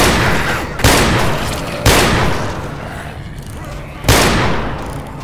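Heavy gun fire in modded Left 4 Dead 2 during the No Mercy hospital level, three loud booming shots spaced about a second or two apart, each followed by a ringing, fading tail.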